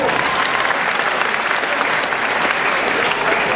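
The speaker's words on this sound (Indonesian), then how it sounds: "tepuk tangan untuk Allah" An audience at a cultural gathering at a university applauds in a dense, steady wash of clapping that holds loud and even throughout with no voices over it.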